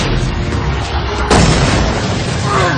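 A Graviton repulsor attack in a Marvel superhero video game fires with a sudden loud booming blast partway through, over a dense rumbling battle backdrop.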